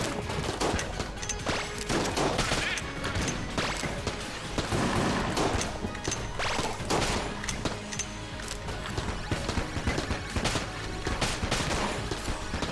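Relentless rapid gunfire from the video game Enter the Gungeon, with dense overlapping bursts and sharp shots packed tightly together, loud and continuous with no talk.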